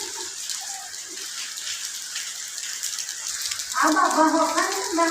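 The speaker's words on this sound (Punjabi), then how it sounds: "ਬਾਰਿਸ਼ ਬੰਦ ਹੋਣ ਦਾ ਨਾਮ ਨਹੀਂ ਲੈ ਰਹੀ" Heavy, persistent rain falls in a steady, even hiss of dense drops that never lets up, and grows louder near the end.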